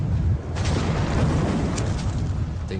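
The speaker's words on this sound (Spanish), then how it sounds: "La explosión fue muy grande, equivalente a casi 5 toneladas de TNT." Massive underwater explosion of the Kursk submarine, roughly five tons of TNT equivalent, a loud continuous deep rumble sustained throughout with a brief swell in the middle.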